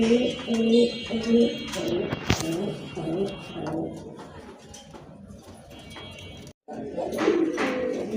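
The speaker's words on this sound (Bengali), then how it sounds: "দেখার মতো একটু জোড়া কবুতর" A pair of pigeons kept for sale cooing close by in repeated soft, throaty bursts, with someone talking at times.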